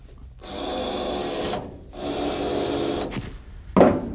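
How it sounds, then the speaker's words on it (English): A Matco spot weld cutter drills out spot welds in a car body panel in three bursts, a close, grinding whir that stops and restarts, ending with a brief louder scrape. "I'm going to use a Matco spot weld cutter"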